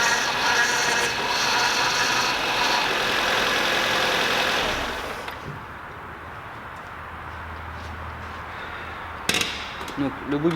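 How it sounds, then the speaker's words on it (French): A Ford Fiesta's power steering pump whines loudly while running with air trapped in it, over an idling engine, before dropping to a quieter idle with a few knocks. "le bruit que vous entendez, c'est normal, c'est la pompe de direction qui tourne un peu à vide."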